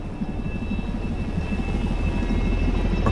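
Helicopter rotor in the VR video game SimplePlanes VR, a steady close thumping chop over a low droning engine hum, growing slightly louder toward the end.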